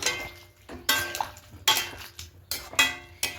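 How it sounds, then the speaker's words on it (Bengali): A utensil stirring soya chunk and vegetable curry with ghee in a pan: about six sharp scraping clinks against the metal pan at an uneven pace, fairly close, with faint sizzling between strokes and no talking. "আর সামান্য একটু ঘি দিয়ে দেবো যেহেতু নিরামিষ রান্না খুব ভালো করে মিশিয়ে নেবো"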